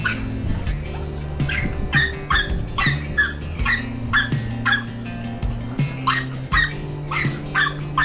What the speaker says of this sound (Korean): 짱아는 지금처럼 사람을 만나면 사람이 사라질 때까지 계속 짖었어요